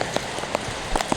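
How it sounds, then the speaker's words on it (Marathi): Heavy monsoon rain falls in Nalasopara, a dense, even patter with scattered sharper drops striking a nearby surface, brief and steady with no voices. "खूप पाऊस पडतो आहे"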